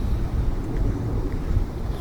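Strong wind buffets a microphone outdoors on a golf course, producing a continuous low roaring rumble that fills the whole stretch without pause.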